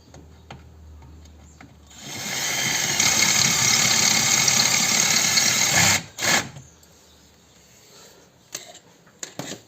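Power drill drilling out the lower rivet holding the washer reservoir on an Opel Corsa E, a close continuous whine lasting about four seconds, then a brief second burst and scattered handling clicks.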